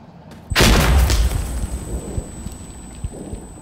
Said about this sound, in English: Throwing grenade, heads down!